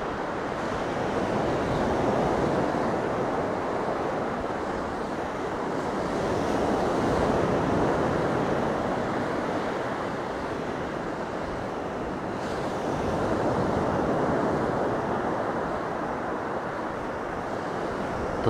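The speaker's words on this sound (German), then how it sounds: "Hier das Meer von Side." Steady roar of surf washing onto a sandy Mediterranean beach at Side, Turkey, in winter, swelling and easing in slow cycles, with some wind noise, no voices.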